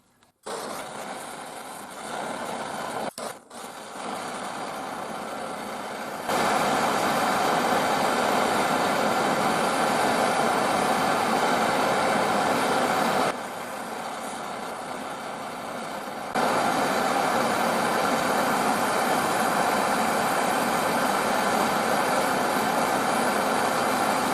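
A MAPP gas torch burns with a steady, loud roaring hiss in a garage while heating aluminium solder rod. The roar stays constant but shifts louder and softer a few times as the flame is adjusted or moved.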